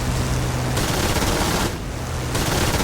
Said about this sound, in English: There's my machine gun. There's the cannon. And you can fire them together.